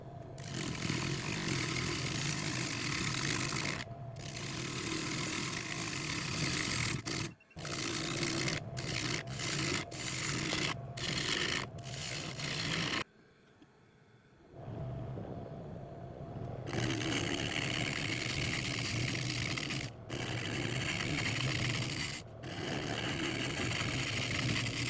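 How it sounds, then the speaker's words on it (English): A bowl gouge carves the edge of an old cherry log on a lathe, a loud, steady rough scraping roar broken by several short pauses and one longer gap of near silence. "now we're going to go to a bowl gouge and carve this edge"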